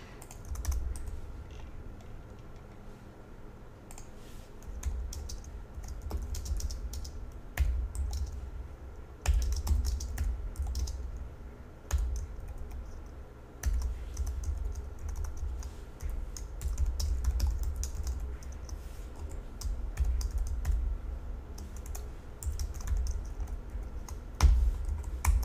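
Steady typing on a computer keyboard while code is written, a continuous run of close, quick key clicks with small pauses and no talking.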